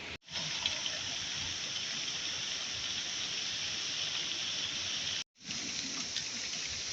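Hot-spring water pours steadily from a spout in a constant, hissing gush, briefly cutting out once before resuming.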